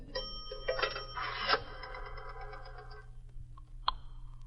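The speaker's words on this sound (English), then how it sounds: "Then I decided to make a phone call from a coin phone." A coin pay phone is used in a radio drama: coins clink and the mechanism rings and chimes briefly, followed by quieter clicks and a faint ding over a low hum.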